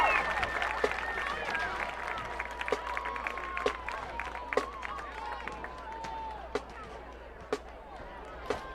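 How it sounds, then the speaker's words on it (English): A stadium crowd at a high school football game between St Marys and Ritchie County applauds the Ritchie County High School marching band, distant diffuse clapping with scattered sharper claps and some crowd murmur. "Another big round of applause for your Ritchie County High School marching band."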